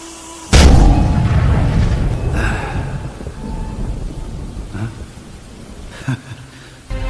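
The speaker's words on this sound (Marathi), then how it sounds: "तिकडं तोफ वाजवा" A single heavy boom bursts out like cannon fire during a children's stage drama, then a long rumbling decay follows with a few softer thuds later.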